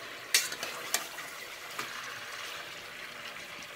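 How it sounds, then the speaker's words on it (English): Meat sizzling as it hits preheated oil in a pan while making haleem, with a couple of sharp crackling bursts near the start settling into a steady, quiet frying hiss. "my oil is preheating over here. I'm gonna add my meat."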